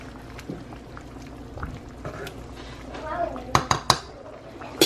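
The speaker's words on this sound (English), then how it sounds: "we're gonna give it a stir" A utensil stirs pork and potatoes in green chile inside a pot, with soft scraping and sloshing. Several sharp metallic clinks come near the end. It is close and moderately quiet, with faint talk in the background.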